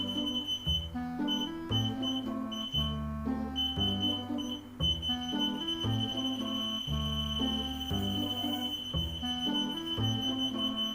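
An electronic buzzer on a microcontroller-based walking stick for the blind sounds as an obstacle draws closer. A steady high-pitched tone runs throughout, partly buried under louder background music with a thumping rhythmic beat.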